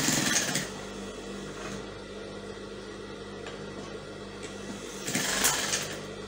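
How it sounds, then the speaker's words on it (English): A sewing machine top-stitches elastic onto an off-shoulder dress with a paper bag top. Its quiet, steady motor whir runs throughout, with brief louder bursts near the start and end. "I'm going to stitch it properly, so it doesn't come off as I stitch along."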